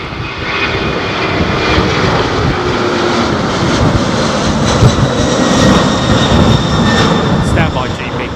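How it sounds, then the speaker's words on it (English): A jet aircraft passes at London Heathrow Airport as a loud, steady engine roar that fills the whole stretch, with a faint voice mixed in. "Had a jet flying past me."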